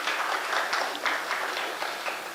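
A crowd at a ceremony in Haiti gives steady, dense applause for prize winners, with many hands clapping together at moderate volume throughout.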